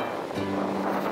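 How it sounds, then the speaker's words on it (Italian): Sea waves wash onto a beach in Salento, Puglia, a broad steady surf roar mixed with wind buffeting the microphone, close and continuous for a moment with no speech. "che mare"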